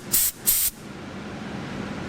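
Compressed air from a racecar's onboard air compressor line bursts out in two short, loud, close sprays, then settles into a steady low background hiss.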